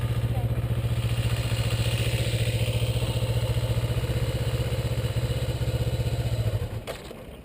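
A Kawasaki Ninja motorcycle engine runs at a steady, rapid idle-like throb, close and fairly loud, then cuts out abruptly near the end, followed by a brief clunk.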